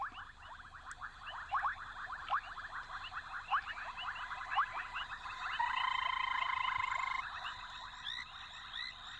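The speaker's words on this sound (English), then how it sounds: "Some frogs like to croak a lot." Frogs croak in a dense chorus, rapid repeated calls layered over a steady trill, with one longer buzzing call standing out near the end; moderately loud and with no voices.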